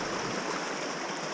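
A stream flows over large stones lining its bed, producing a steady, broadband rush of water that stays close and even throughout, with no voices.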